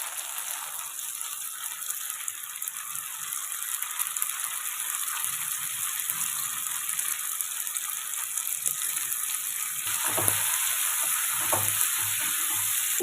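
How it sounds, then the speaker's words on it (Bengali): Snake gourd fries with onions in a pan, giving a steady close sizzle that builds slightly, with scraping stirs and rattles toward the end. "ভালো করে ভেজে নেব একটু সময় নিয়ে নেড়ে চেড়ে এটিকে ভালো করে ভেজে নিতে হবে"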